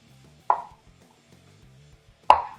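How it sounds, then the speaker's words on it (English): Two sharp knife chops through the ends of fresh green beans on a cutting board, crisp and close, separated by almost two seconds of quiet. "all I'm going to do here real quick is cut off of the ends"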